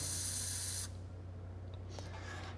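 A loud, steady hiss of aerosol penetrating oil sprays as a stream for just under a second, then cuts off abruptly, leaving a low background hum.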